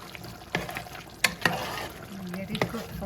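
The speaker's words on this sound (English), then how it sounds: "I'm going to give it a good stir." Potatoes being stirred through a pot of Durban-style South African Indian biryani, giving a few scraping, clattering strokes over a soft background sizzle.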